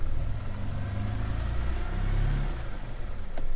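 A Ferrari engine with a check engine light on, rough and low near the mic, surges briefly as the gas is pressed and then sags back toward a stumbling idle around 600 RPM.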